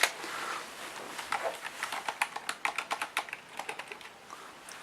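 Fingers typing on a Corsair K70 RGB MK.2 Silent mechanical keyboard, a close run of muted, irregular keystroke clacks that speeds into a quick patter before slowing, with a heavier press at the end.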